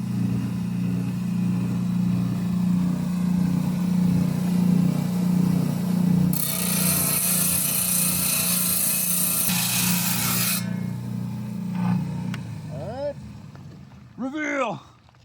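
A rock saw cuts through a fossil coral geode, giving a steady grinding drone that turns into a loud rasping hiss for several seconds before stopping, with a voice speaking near the end.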